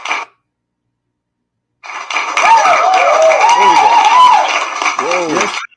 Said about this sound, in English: Y'all put your hands together for my friend and brother